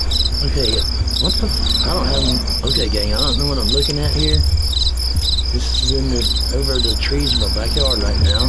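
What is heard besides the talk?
crickets chirping in a backyard at night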